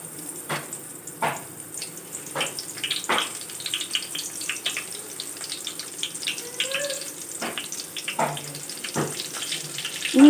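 Eggplants slipped one at a time into hot oil in a pan, giving a steady watery sizzle with small sputters and crackles that rise as each piece goes in, and a voice speaking faintly over the cooking.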